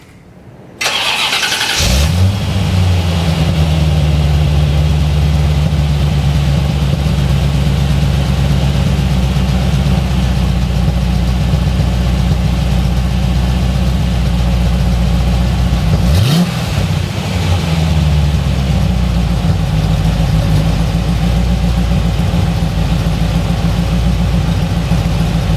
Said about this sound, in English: So here's the car with the cats gutted, two fronts removed, the main one gutted, and the Dynamax mufflers that were on it back on it.